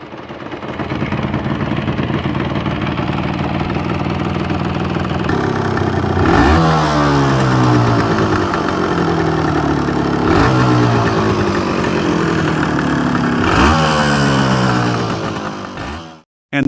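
A V3 three-cylinder motorcycle engine runs loudly and steadily, rising into three sharp revs, each followed by a falling whine as it settles back, before cutting off abruptly at the end.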